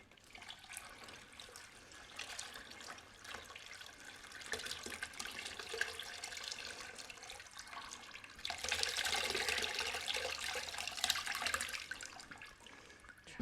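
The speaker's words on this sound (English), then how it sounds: "I just pick this up and pour the rest of it in." Rendered beef tallow being poured from a pot into a container, a continuous liquid splashing and trickling that grows louder and fuller toward the end, heard close and with no voices.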